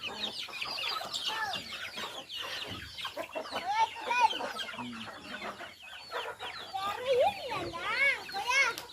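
Many chicks and hens cheep and cluck nearby in a busy, overlapping chorus, with a person speaking over them.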